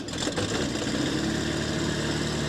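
The Rotax engine of a Ukrainian-made K-10 Swift light airplane starts up on a grass airfield. A rough, droning engine note quickly settles into a steady, close running hum.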